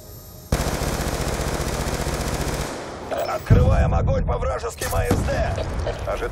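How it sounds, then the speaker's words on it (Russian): Sustained automatic gunfire in the Call of Duty: Black Ops II shooter, a dense rapid burst for several seconds that cuts off, followed by scattered game sounds and a voice speaking. "Упражнение дальней стрельбы"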